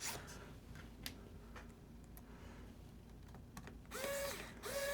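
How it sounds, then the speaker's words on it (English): A screwdriver drives small screws back into the plastic case of an HP 15-DY1043X laptop, giving faint, sparse ticking and creaking clicks over a low, quiet room hum. "Now just put back in the screws."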